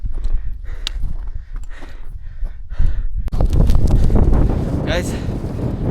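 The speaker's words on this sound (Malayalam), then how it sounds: "തണുത്ത കാറ്റടിച്ചുകൊണ്ടിരിക്കുകയാണ്" Cold wind gusts across a high mountain trail on the Kedarkantha summit trek, a rough broadband rush that swells and grows steadier and louder in the second half.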